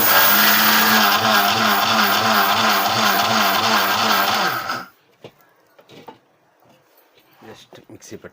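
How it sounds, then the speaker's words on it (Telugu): A mixer grinder grinds dried eggshells into powder, a loud, steady whirring roar with a rhythmic rattle that runs for nearly five seconds and then stops, leaving faint clicks and handling noises. "జస్ట్ మిక్సీ పెట్టుకోవాలి."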